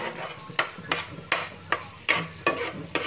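A sardine omelette fries in a pan, with a soft sizzle running underneath and a spatula scraping and tapping the pan in sharp, irregular strokes about every half second.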